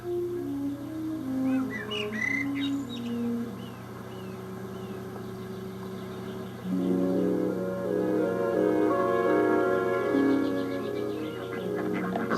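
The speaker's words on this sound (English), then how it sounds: "I don't think words are needed in a place like this. The birds are enough." Birds sing in open countryside near the hilltop town of Malmesbury, with clear warbling phrases that fade in and out over a steady low background hum.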